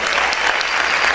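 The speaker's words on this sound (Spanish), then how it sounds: "¿Cuántos pueden aplaudir fuerte al Señor?" Loud, dense clapping from a church congregation applauding the Lord, a brief close burst of many hands at once.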